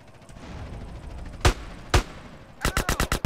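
Gunfire in GTA San Andreas crackles over a low background rumble: two separate loud shots come first, then a rapid burst of about six shots in quick succession.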